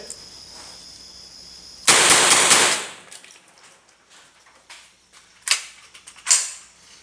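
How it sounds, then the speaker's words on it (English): A Ruger 10/22 rifle is test fired outdoors behind a building: one loud, sharp report rings out and fades over about a second, followed by two fainter, quicker cracks a few seconds later. "Just going to run out back right here and bang, bang, bang."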